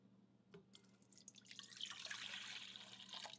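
Liquid pours into a stand mixer bowl fitted with a paddle, a soft splashing trickle that starts after a brief drip and swells into a steady, fairly quiet stream.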